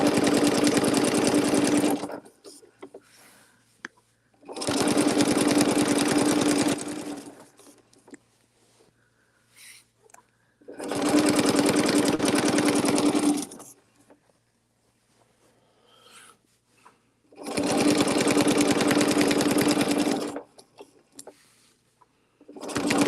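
A sewing machine stitches in four steady, loud runs of about three seconds each, its fast mechanical chatter separated by quiet pauses with small handling noises.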